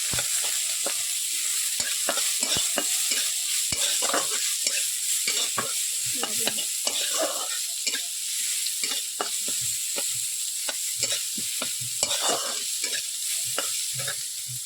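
Chopped onions fry in hot oil for aloo paratha while a spoon stirs and scrapes the pan in frequent irregular strokes over a constant close sizzle, no voices.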